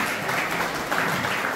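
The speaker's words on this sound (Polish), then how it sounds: "Wielkie brawa dla niego" A hall audience at a school event for car mechanic students applauds in a dense, steady wash of many hands clapping, sustained at even loudness throughout.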